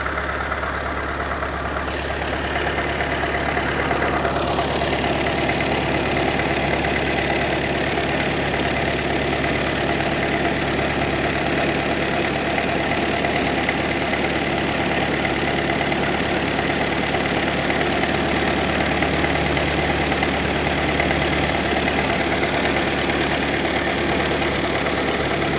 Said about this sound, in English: We'll let the engine warm up now